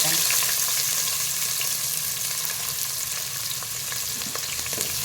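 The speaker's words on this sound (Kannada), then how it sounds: "ಈರುಳ್ಳಿ ಸ್ವಲ್ಪ ಆಗೋವರೆಗೂ ಚೆನ್ನಾಗಿ ಫ್ರೈ ಮಾಡ್ಕೋಬೇಕು" Onion sizzling steadily in a pan with whole spices (cinnamon, star anise, cardamom, cloves) for spinach pulao, a continuous close frying hiss with occasional stirring scrapes and no talk.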